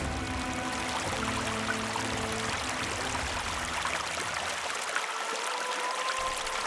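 River water flows steadily in a continuous broadband rush, with no breaks and no voices, sounding fairly close and even in level throughout.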